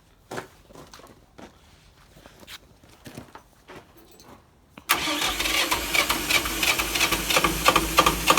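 Chinese tractor engine being started: several faint knocks and clunks, then the diesel catches abruptly and runs loud and steady with a throbbing idle close by.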